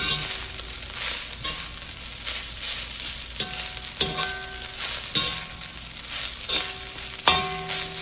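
Crab fried rice sizzles steadily in a hot pan over raised heat, with recurring scrapes and clinks of a utensil stirring and tossing the rice as the broken-up mixture cooks.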